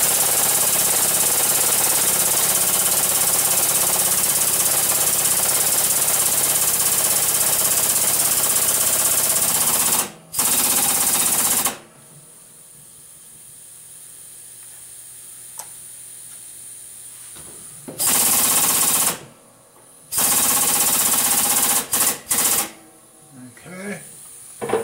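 Pneumatic impact wrench driving an impact socket on a 1978 Chevrolet Camaro, loud rattling hammering bursts that start and stop in several runs, with quieter shop ambience between them.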